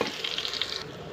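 Ginger-garlic paste sizzling in hot oil for matar pulao, a brief close crackling fry with light spatters.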